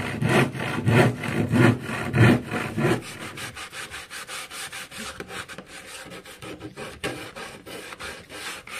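Rhythmic rasping of sandpaper scraped back and forth on wood for a hanging cabinet, strong strokes at first, then lighter, quicker rubbing continuing close by.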